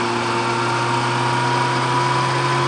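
A 2017 Suzuki GSX-R1000 motorcycle engine runs steadily in fifth gear on a dyno, a sustained even drone with strong tonal hum, loud and close, with no speech.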